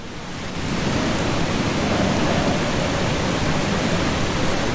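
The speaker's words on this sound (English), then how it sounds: "Just in case we get hurt by this electrical storm." Storm ambience from the video game Eastshade, a steady wash of heavy rain fading in and then holding constant, with thunder barely distinct beneath the hiss.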